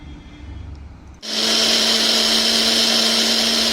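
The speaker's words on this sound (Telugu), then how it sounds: "లెమన్ జ్యూస్, లాస్ట్లో కర్డ్ యాడ్ చేసుకొని బ్లెండ్ చేసుకోండి" A blender whirs on curd, lemon juice, salt and black pepper, starting abruptly after a quiet moment and then running loud and steady with an even motor hum.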